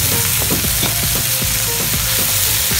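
Garlic, onion and tomato sauté in hot oil for mung bean sprouts, giving a dense, steady sizzle with a few faint stirring scrapes.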